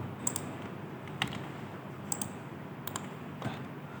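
Sparse, quiet keystrokes and clicks on a computer keyboard as dimensions are entered in Autodesk Inventor, a handful of irregular taps over a faint steady room hiss.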